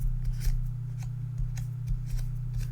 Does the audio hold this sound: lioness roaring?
no